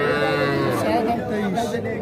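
Calves lowing at a busy cattle market, with a young bull calf about two and a half months old nearby; a drawn-out moo rises over the crowd's chatter and voices.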